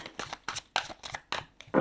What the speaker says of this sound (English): Let's see how they shuffle ordinarily.